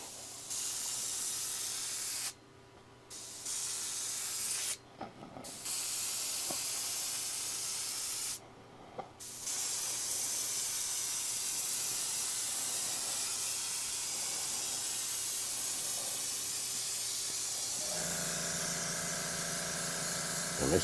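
An air compressor at a gas station: a steady, fairly quiet hiss broken by a few short dropouts, then a humming motor kicks in near the end.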